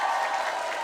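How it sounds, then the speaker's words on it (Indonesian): A studio audience at an Indonesian comedy show breaks into applause, a brief, even wash of many hands clapping at moderate distance without letting up. "langsung aja tepuk tangan sekali lagi"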